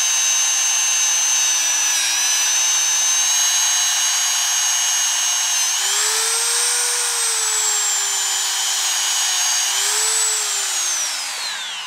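A power polisher runs at high speed buffing an AR-15 trigger hammer with rouge, giving a loud, steady high whine that dips and rises in pitch as the part is pressed against the wheel, continuous throughout with no talk.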